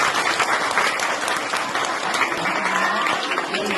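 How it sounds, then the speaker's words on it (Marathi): An audience claps at a religious discourse, giving dense sustained applause throughout, loud and close, with a faint murmur of voices beneath it. "अशा प्रकारच्या पुरुषार्थासाठी जोरदार टाळ्यांचा"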